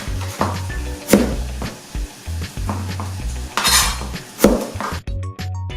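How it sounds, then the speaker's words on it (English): Peeled, washed potatoes are quartered with a kitchen knife, giving a few sharp knocks and light clinks over a steady, low, pulsing background hum. "Just gonna cut those into quarters."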